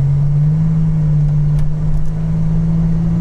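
A 1986 Buick Grand National with a turbocharged 3.8-litre V6 idles close by, a steady low hum holding a constant pitch with a slight wavering, loud and continuous with no voices.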